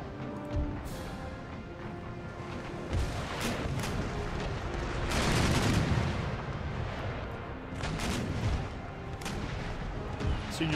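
Naval battle in Empire: Total War with ship cannons booming in repeated, overlapping volleys, a heavy dense barrage swelling near the middle over constant battle noise.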